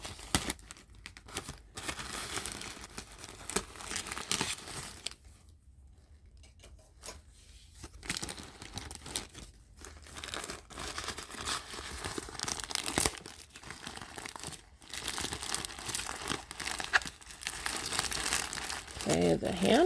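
Taped packaging on a Dooney & Bourke handbag is torn open, with loud, close crinkling and ripping of plastic and tape coming in repeated bursts. A few quieter pauses break it up, and a person talks intermittently.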